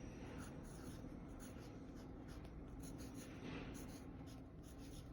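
Pen strokes scratch and rub across paper close by as a word is written out on a worksheet, a busy continuous scribbling texture with short bursts, steady throughout, no speech over it.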